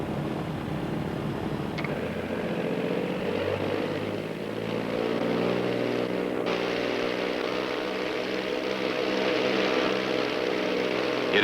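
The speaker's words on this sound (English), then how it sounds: "Queen Air 150 cleared for takeoff." A Beechcraft Queen Air twin-engine propeller plane takes off, its engines droning loudly and steadily with a pulsing beat that rises in pitch as power builds, with no talking.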